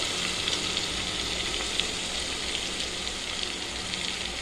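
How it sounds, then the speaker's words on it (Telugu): Onions frying in oil in a pan, an even low hiss of sizzling that stays faint and constant, with no talking. "వేసి ఉల్లిపాయ మంచిగా వేగాలండి."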